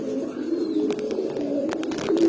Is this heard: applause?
no